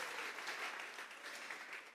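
A church congregation claps together as an offering of praise during a Sunday service, a steady, dense wash of many hands, fairly soft and distant, with no voices over it.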